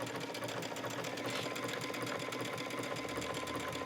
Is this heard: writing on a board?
no